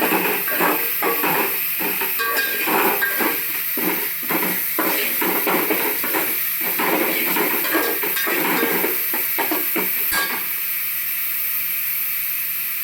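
Pieces of chicken frying in a pan until browned for a Telangana-style curry, giving a continuous hiss with rhythmic stirring scrapes that stop near the end and leave a quieter sizzle.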